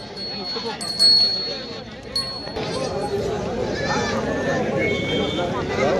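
Goats bleat at a busy livestock market in Koregaon, Satara, a few sharp calls rising over constant crowd chatter and people talking nearby.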